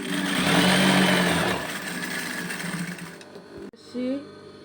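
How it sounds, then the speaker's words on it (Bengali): A sewing machine runs at a steady high-pitched whir while stitching a ribbon onto a school dress, loud and close, then slows and stops, followed by a brief short burst of stitching. "ফিতার জন্য আমি এই ফিতাটা সেলাই করতেছি।"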